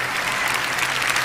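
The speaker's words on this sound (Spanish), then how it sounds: "Y ahora denle un aplauso al Señor" A church congregation applauds during a sermon, a loud, dense and continuous wash of many hands clapping together, with no speech over it.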